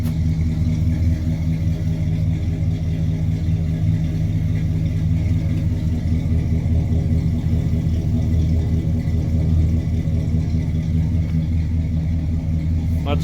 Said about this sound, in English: I think I'm going to turn the idle down just a little bit.